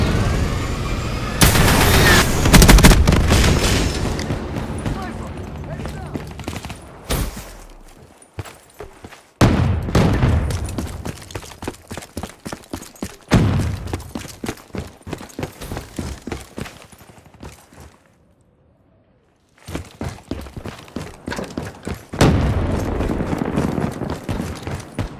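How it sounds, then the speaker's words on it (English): Hellstorm missile strike and gunfire in Call of Duty: Black Ops III team deathmatch on the Evac map, heavy booming blasts and clattering shots in loud bursts separated by short quiet gaps. "Requesting Hellstorm missile."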